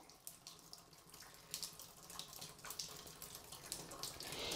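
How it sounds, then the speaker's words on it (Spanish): Water draining steadily out of a removed shower fitting, a continuous splashing trickle that grows slightly louder toward the end, heard alone without talk. "dejamos que escurra bien el agua"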